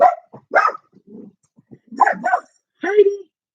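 A dog barks at a fly in a series of short, loud, close yips and barks with brief pauses between them, heard on their own against a quiet background.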